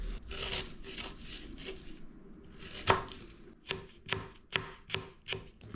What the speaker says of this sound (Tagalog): Hiwain ko natin yung luya na sobrang ninipis.